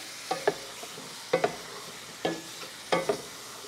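Onions and old shallots browning in a hot pan, with a steady close sizzle broken by a few paired scraping stirs at irregular intervals.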